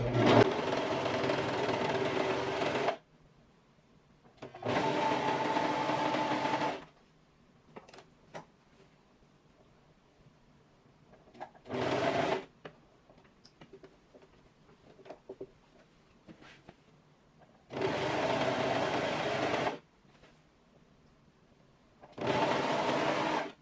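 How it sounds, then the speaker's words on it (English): Serger overlocker stitches elastic onto a bias-cut maxi skirt in several loud bursts of rapid whirring, separated by quiet pauses holding faint fabric handling and clicks. "gently stretch the elastic so that it matches the width of the skirt, and just start to serge"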